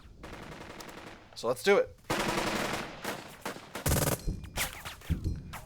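Bursts of machine gun fire laying down suppressing fire in the video game Burden of Command, rapid rattling volleys and scattered shots with a voice speaking briefly over the battle noise.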